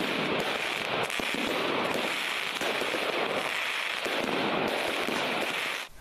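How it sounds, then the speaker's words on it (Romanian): Dense, continuous crackling and popping of fireworks as 44 tons of confiscated pyrotechnics are destroyed at a firing range, a loud unbroken roar of bursts lasting the whole stretch before cutting off at the end. "Spectacol de artificii în poligonul Mihai Bravu după ce polițiștii au distrus numai puțin de 44 de tone de elemente pirotehnice confiscate"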